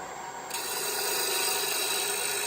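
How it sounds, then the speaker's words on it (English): A Hunter carbide-tipped turning tool cuts into spinning wood on a lathe, giving a steady, close scraping rasp that starts abruptly and carries on without pause, with no one talking. "I'm actually riding a bevel here on the edge of this tip with making this cut."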